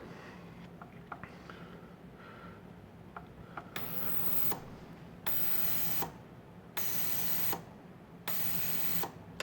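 A Hornady sonic cleaner running: a steady low electrical hum with a faint buzzing whine, stepping up into louder hissing bursts that switch on and off in regular pulses.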